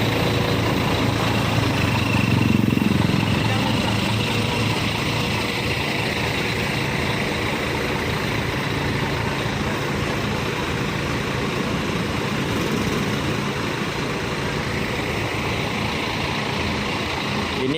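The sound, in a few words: Harapan Indah bus engine idling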